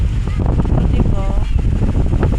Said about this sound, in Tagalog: Lakas ng hangin, pati yung cellphone parang itatangay ng hangin.